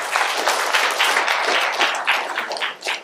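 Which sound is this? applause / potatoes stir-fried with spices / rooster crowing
applause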